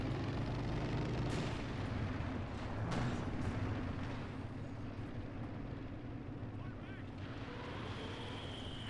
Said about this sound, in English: Katusha opening fire at mid, trying to break all this up